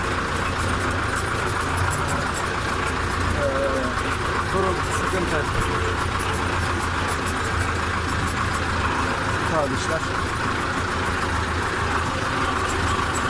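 A tractor engine runs steadily in the countryside, a continuous mid-to-low drone under a voice talking throughout.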